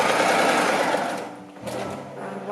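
Sewing machine stitching a push-up bra, running in a steady continuous whir that dips briefly near the middle, then resumes at close range with no talk.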